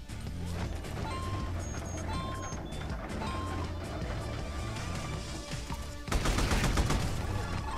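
Gunfire from the Xbox One platformer Rad Rodgers, a steady run of rapid shots over game music and effects, growing louder and denser near the end.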